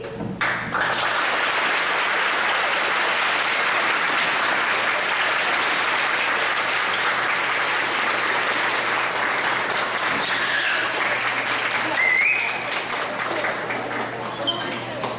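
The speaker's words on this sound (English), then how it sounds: "give a big round of applause again" An audience applauds at an author event, a long, loud and continuous wash of clapping from a large crowd that holds steady throughout with no break and no voices over it.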